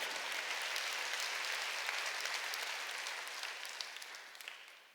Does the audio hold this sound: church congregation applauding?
yes